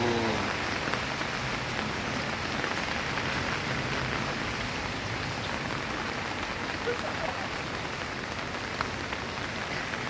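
Hail falls during a cold storm in Tel Aviv, making a dense, steady patter of pelting stones that stays loud and close from start to finish with no pause.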